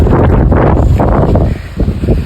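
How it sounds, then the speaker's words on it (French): Strong wind buffets the microphone outdoors on an autumn landscape shoot, a loud, continuous roaring rush with gusty surges and a slight lull midway. "Il y a un vent de ouf."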